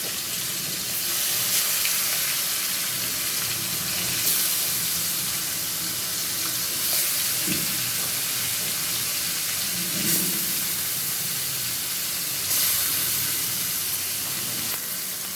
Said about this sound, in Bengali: তেলও গরম হয়ে গেছে দিয়ে দিলাম কই মাছ